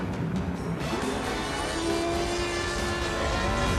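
An F-80 jet aircraft without its tip tanks comes in to land, its engine a loud continuous roar with a rising whine, heard alone and close.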